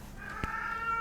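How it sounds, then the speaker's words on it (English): An old house cat lets out a brief, faint meow in the background of a quiet indoor room, heard alone without talk. "there goes our kitty cat complaining about something"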